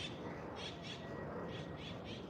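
A loud bird calling outdoors, close by, with repeated bursts of high calls over steady background noise.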